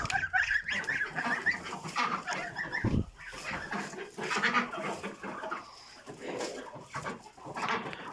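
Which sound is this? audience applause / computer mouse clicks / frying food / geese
geese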